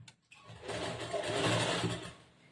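A sewing machine stitches a cross-cut blouse seam in a tailoring class, starting after a brief pause and running in a steady close whirring hum for about two seconds before slowing.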